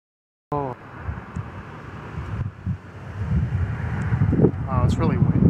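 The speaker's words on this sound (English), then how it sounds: "Oh, it's really windy." Strong wind buffets the microphone with a low, rumbling roar that builds toward the end, while a person talks over it.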